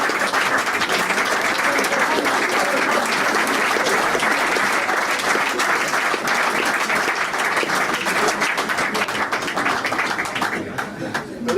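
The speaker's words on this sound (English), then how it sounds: "the men of this area today should give a real good clap for all those women" An audience at Aylestone Park FC's 50th anniversary dinner breaks into sustained applause lasting about eleven seconds, dense and fairly loud, easing slightly at the end, with voices mixed into the clapping.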